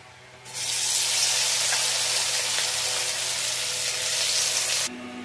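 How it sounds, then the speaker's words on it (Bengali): Chicken pieces hit hot oil in a wok, setting off a sudden loud, dense sizzle that holds steady for about four seconds before cutting off abruptly. "তেলটা গরম হলে চিকেনগুলো ভেজে নেব।"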